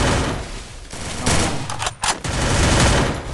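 Gunfire in the Free Fire video game comes as loud, close, rapid bursts of shots with a brief pause near the middle, then continues as dense sustained firing.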